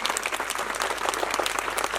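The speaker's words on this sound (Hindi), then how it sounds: "आप सबसे गुजारिश एक बार जोरदार तालियों से बच्चों का मनोबल बढ़ाएं।" An audience claps for children after a workshop performance by the National School of Drama, a dense, even wash of applause lasting the full moment, moderately loud and without speech over it.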